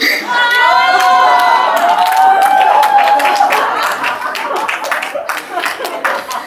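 A crowd at a school project presentation event claps loudly and steadily throughout, with cheering and shouting voices rising over the applause at the start.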